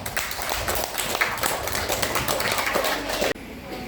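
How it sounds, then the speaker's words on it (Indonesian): A classroom gives group 1 a round of applause after their presentation, dense and loud clapping from many students that runs steadily for several seconds before cutting off abruptly. "Kita beri aplaus kelompok 1."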